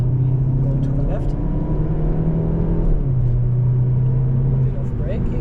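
A VW Golf 7.5 GTI accelerating downhill on the Nürburgring Nordschleife during a tourist lap, with a steady loud engine drone that rises and shifts in pitch from inside the cabin while a voice talks over it.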